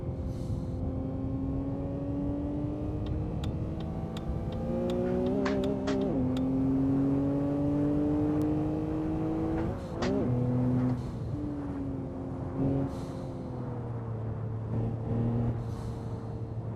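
An Audi racing car's engine in Assetto Corsa revs continuously through rising and falling gear sweeps, loud and close, with brief shifts and a steady drone throughout the run.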